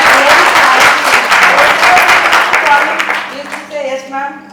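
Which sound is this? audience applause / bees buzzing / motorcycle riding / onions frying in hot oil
audience applause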